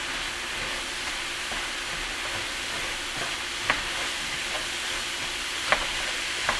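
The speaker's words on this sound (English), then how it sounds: "Add potatoes, whatever ratio you want. Give it a little bit of a stir." Potatoes sizzle steadily in a hot pan for hash while being stirred, a continuous frying hiss with occasional sharp clicks of a utensil scraping the pan.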